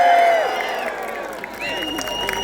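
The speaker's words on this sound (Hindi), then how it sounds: "जोरदार तालियों से प्लीज वेलकम सनी देओल" A crowd at a live song promotion event at Tanot Mata Mandir in Jaisalmer welcomes Sunny Deol with loud cheering, shouts and whistles rising over a continuous crowd roar.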